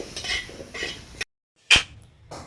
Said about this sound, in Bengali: মা এবার ঠাকুরের জন্য ভোগ বেড়ে দিচ্ছে